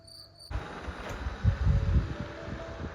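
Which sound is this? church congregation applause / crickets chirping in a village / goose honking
crickets chirping in a village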